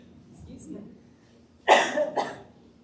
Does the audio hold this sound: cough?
yes